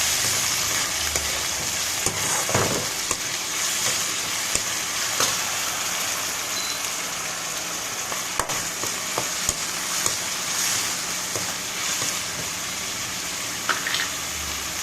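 Brinjal with broken dried chillies and salt being stirred in a hot pan, with continuous sizzling and frying and repeated scraping strokes of a spatula close by.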